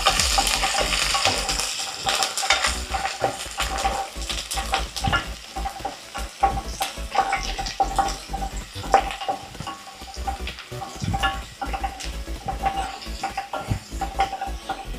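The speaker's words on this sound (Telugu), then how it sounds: "ఇప్పుడు ఇందులోకి స్లైస్ చేసుకున్న గార్లిక్ వేస్తున్నాం. దాని తర్వాత జింజర్ వేస్తున్నాం." Sliced garlic and then ginger fry in a hot pan for a chicken stew, giving a continuous loud sizzle over which a utensil stirs and scrapes with frequent clicks.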